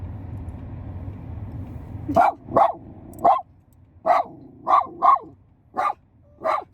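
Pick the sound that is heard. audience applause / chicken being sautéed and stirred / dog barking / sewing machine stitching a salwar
dog barking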